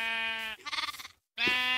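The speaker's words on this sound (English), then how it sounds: "Oh, there's sheep there." Minecraft sheep bleating in two clear, close calls, the first a steady tonal baa and the second a wavering, trembling bleat, separated by a short silence before another begins.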